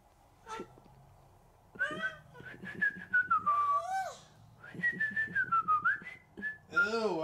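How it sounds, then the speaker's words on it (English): A person whistles in short, wavering bursts with pauses between phrases, close and fairly loud, the pitch sliding up and down. "Do that sound effect when you whistle"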